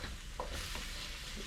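A hot pan being deglazed with wine gives a steady, close, broadband sizzle with no talking over it.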